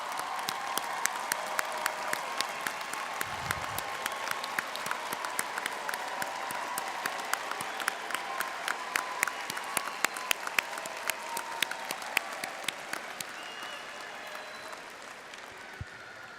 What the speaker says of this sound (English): Thank you for cheering and supporting our graduates.